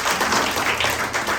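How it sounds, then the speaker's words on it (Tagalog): A church congregation at Sunday worship claps together, a dense, steady burst of applause filling the room without voices. "Sana akong palakpak sa ating Panginoon."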